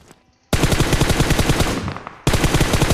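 Automatic gunfire in the BGMI battle royale mobile game rattles out in loud, rapid bursts, with a brief pause near the end before the firing resumes.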